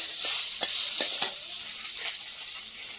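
Chopped onion sizzling and spitting in hot oil in a pan, a steady loud frying hiss with a few soft stirring scrapes, no voices.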